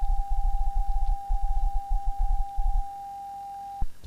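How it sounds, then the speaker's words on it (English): A steady pure PSK31 digital radio tone hums without a break while a low, rapid pulsing rhythm flutters beneath it, then both stop abruptly near the end. "this is what the PSK31 sounds like"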